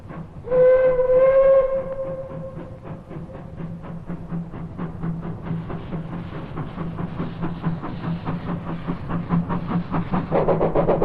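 Steam whistle of Engine 109, a mill locomotive in service since 1914, sounds a loud sustained blast, then the engine chuffs away in a steady, quickening exhaust rhythm close by.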